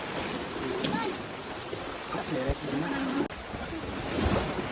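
Sea waves wash and surge steadily with wind noise at a beach on Dinagat Island, while voices talk and call out faintly over the surf.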